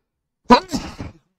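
A single sneeze from a man, close and abrupt, followed by a brief breathy trailing sound in an otherwise silent room.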